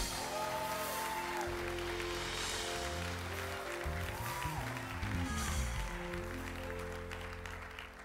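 A church congregation applauds during a sermon, a steady, fairly quiet wash of clapping running throughout with a few voices mixed in.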